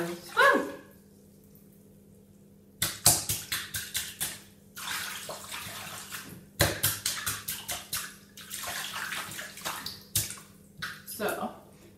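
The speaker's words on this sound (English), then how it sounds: "With the water sound. Splash, splash, swirl, swirl." Water in a bathtub being splashed and swirled by hand in repeated bursts of sloshing and dripping, separated by quiet pauses, fairly close and moderate in volume.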